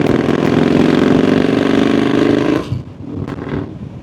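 A 1340 cc motorcycle engine runs with a loud, rapid, throbbing beat close by, holding steady before dropping off abruptly into quieter idle and ambient rumble.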